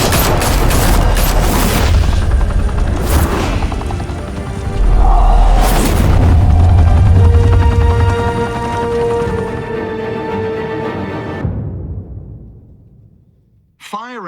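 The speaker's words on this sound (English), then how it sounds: "Open fire!" Batman video game gunfire erupts in Gotham, loud bursts of rapid shots and booms crowding the opening seconds, then a heavy blast before the firing fades into a quieter rumble and drops away.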